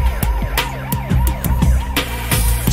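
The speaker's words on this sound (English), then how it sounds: "Siren sound, a crowd gathers." A siren wails in repeating rising-falling sweeps over a driving beat with sharp percussive hits, part of a loud music track.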